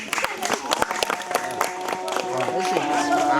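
A gathered crowd at a St. Michael feast-day charity event in Dila, Ethiopia, breaks into sustained clapping that swells in volume, with voices heard over the applause.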